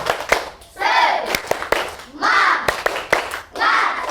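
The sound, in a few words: children's clapping chant (tepuk semangat)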